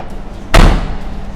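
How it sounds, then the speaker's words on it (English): The door of a Morris Minor 1000 car is slammed once, a single loud, sharp metallic thud that decays quickly, set against quiet outdoor background noise. "Okay, the door didn't shut."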